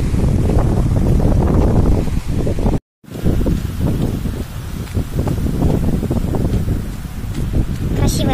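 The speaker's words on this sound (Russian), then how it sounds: "Очень сильный ветер." Strong wind buffets the microphone outdoors in loud, continuous rumbling gusts, with a brief dropout partway through and faint talk underneath.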